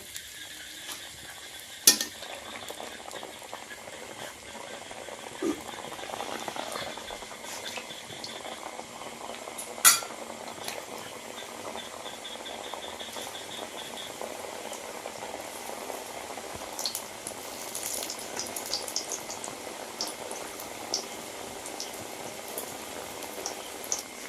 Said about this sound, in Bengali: মিষ্টির জন্য তৈরি করে নেব গরম হয়ে গেছে তেলে ছেড়ে দেবো